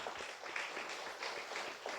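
A church congregation at a Sunday service claps together, a steady dense patter of many hands heard from a moderate distance and fairly quiet.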